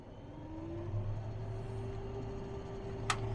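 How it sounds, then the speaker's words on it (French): A combine harvester's threshing mechanism starting up during a French wheat harvest, a steady low mechanical hum and whir with a rising tone, continuous and fairly close, one brief click near the end. "mise en route des organes de battage"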